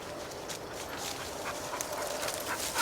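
A hot hunting dog pants rapidly in a dove field, breathing close to the microphone with a few faint whimpers over a broad outdoor wind and rustle, no talk.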